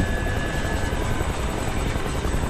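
Helicopter in the video game Kane & Lynch 2, a loud constant rotor thrum with fast blade chop filling the whole moment.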